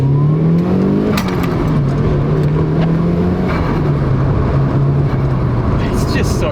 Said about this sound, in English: we're gonna do a quick 0 to 100 kind of pull to make sure there's no cars